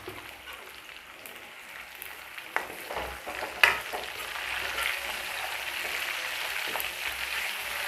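Chicken feet fry in a pan with a continuous crackling sizzle that grows busier toward the end. A few sharp clicks and scrapes come from stirring, and there is no speech.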